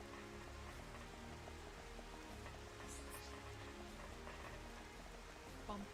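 Rain in the video game Xenoblade Chronicles, a steady hiss of falling rain with soft pattering under quiet background game music, faint and continuous throughout.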